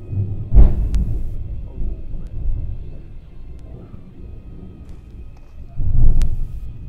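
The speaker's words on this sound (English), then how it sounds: "those are natural sounds made because of the sound of thunder." Thunder rumbles in deep, rolling surges, with a heavy burst near the start and another swell toward the end and quieter low murmuring between.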